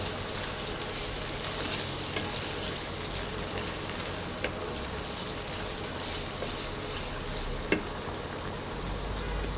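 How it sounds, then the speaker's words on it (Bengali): Boiled carrots and whole green chilies fry in a pan during prawn pulao cooking, a steady close sizzle with occasional stirring clicks and no talking. "এটাকে এখন আমি 5 মিনিটের মতো একটু ভেজে নেব"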